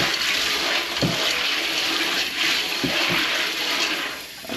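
Running water pours and sloshes over red peas being rinsed for Jamaican stew peas, a loud, close, continuous gush with a few splashy bumps as the peas are swirled.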